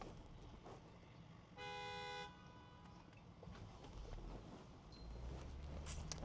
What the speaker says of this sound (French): On se fait klaxonner parce qu'on s'est arrêté sur la route.